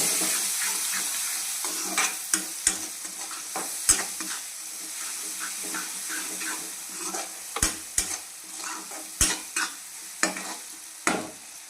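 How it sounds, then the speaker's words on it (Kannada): Sliced onions frying in oil in a pan for hotel-style masala dosa, with a steady sizzle broken by repeated sharp scrapes and knocks of a spatula, close and clear, with no voices. "ಸ್ವಲ್ಪ ಚೆಂದಾಗ ಎಣ್ಣೆಗೆ ಫ್ರೈ ಆಗಲಿ. ಇದು ಉಳ್ಳಾಗಡ್ಡಿ"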